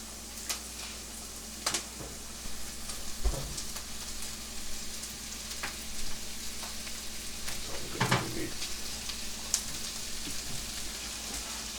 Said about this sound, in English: now that the onions are starting to get translucent, let's add some bacon in there